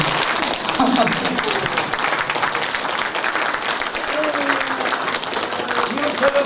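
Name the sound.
audience applause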